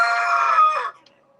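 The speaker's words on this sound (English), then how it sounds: "And he's wanting to get in on the action, of course, the rooster." A farmyard rooster crows once, loud and close, the call holding steady and then trailing off at the end, with no talking over it.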